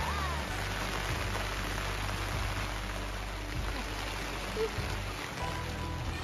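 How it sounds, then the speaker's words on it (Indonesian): Light rain patters over a family campsite with a tent and tarp, a soft, even wash of drops heard at a distance throughout. "Nah, hujan."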